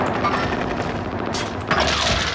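Rapid gunfire in an online shooter game (Quase Nada Rebirth match) crackles densely and loudly throughout, with a sharper burst near the end and faint voices in the background.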